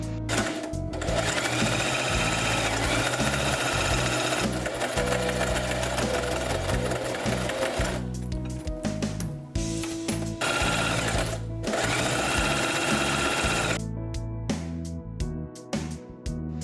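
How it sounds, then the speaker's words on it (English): A sewing machine stitching fleece slippers runs loud and steady, its motor whirring in long bursts broken by brief pauses, close up with no talking. "Go ahead and sew it together."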